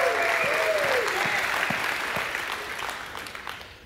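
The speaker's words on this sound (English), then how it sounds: "give God a hand clap and a shout of praise" A church congregation applauds steadily, a dense wash of clapping with some voices calling out praise over it, slowly fading toward the end.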